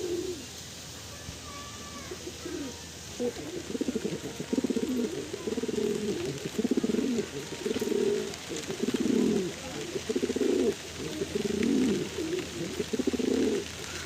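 Pigeons cooing at a home loft, a steady series of low, rounded coos repeating in close rhythm over faint background hiss, with no talk.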